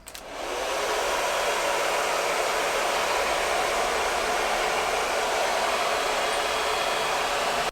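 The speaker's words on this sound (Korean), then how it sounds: "드라이기를 세워서 할 게 아니라 살짝 눕혀서 바람을 줄 거예요" A hair dryer starts up and blows at a steady, loud whoosh, a continuous airy roar with no talking.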